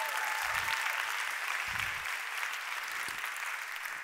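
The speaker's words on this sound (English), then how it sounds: "Can we give them a round of applause again?" A summit audience applauds steadily at a moderate distance, a continuous wash of clapping that stays even throughout, with occasional low thumps beneath.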